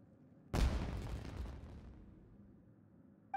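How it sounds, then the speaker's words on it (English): In Genshin Impact, a sudden loud blast of fireworks booms and then rumbles off in a long, fading roar, with a faint click at the very end. "Was that an explosion? It sounded like fireworks."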